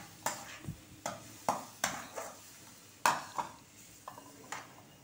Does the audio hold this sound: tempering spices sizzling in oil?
yes